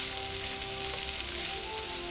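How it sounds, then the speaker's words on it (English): Food sizzles steadily in a hot frying pan during travel meal prep, a continuous close crackling hiss with no talk over it. "Ooh, listen to that baby sizzle."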